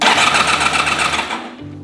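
A Honda VFR400 motorcycle under restoration, with a previously failed engine, is cranked on its starter: a loud, fast, rhythmic mechanical whirring that cuts off after about a second and a half, leaving a low hum. No talk.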